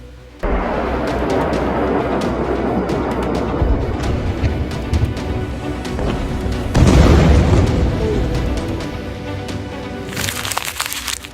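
A heavy missile explosion booms out and rumbles on, with a second louder blast surge midway and crackling debris near the end; no talking.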